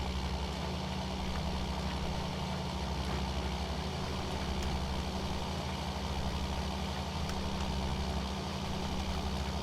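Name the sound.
tractor engine running at dropped RPM, Farming Simulator 19 video game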